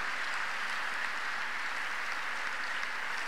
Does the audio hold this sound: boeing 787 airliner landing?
no